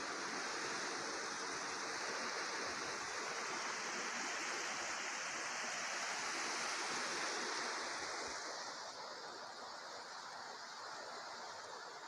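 Steady broadband rush of the Balsas River flowing near Tlapehuala, Guerrero, Mexico, continuous and full throughout, easing slightly toward the end.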